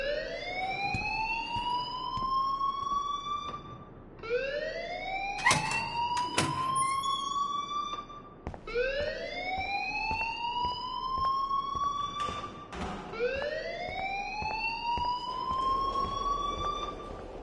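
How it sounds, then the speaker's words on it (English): A school fire alarm in Life is Strange wails in four long rising sweeps about four seconds apart, loud and near, with a few sharp clacks between cycles. "please turn off that alarm since that's your job"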